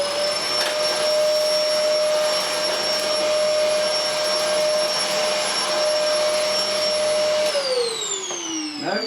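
An Electrolux Sanitaire professional upright vacuum cleaner runs steadily and loudly up close with a strong whine, then its pitch drops as it begins to wind down near the end.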